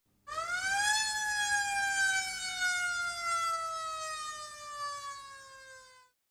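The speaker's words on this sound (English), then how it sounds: "The ambulance arrives at the hospital." An ambulance siren arriving at a hospital wails in one long, steady tone that rises briefly and then slowly falls away. It sounds clear and alone, with no voices.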